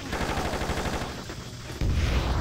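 A grenade blast in the action game Just Cause rings out, loud and booming, amid a dense run of rapid gunfire, with a heavy low-end thump arriving near the end.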